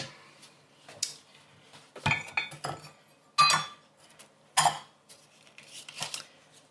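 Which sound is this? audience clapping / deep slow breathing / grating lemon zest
grating lemon zest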